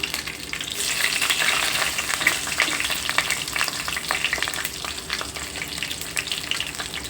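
Dried red chillies frying in hot oil for ridge gourd curry, a dense, steady crackling sizzle close by that carries on throughout with faint stirring sounds.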